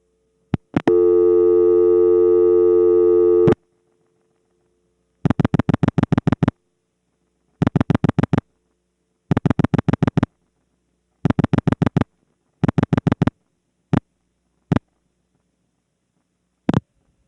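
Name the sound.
telephone trunk handshake, off-hook then on-hook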